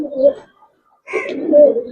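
Giribaz pigeons coo in a loft, two bursts of soft, throaty cooing separated by a brief pause, close and moderately loud.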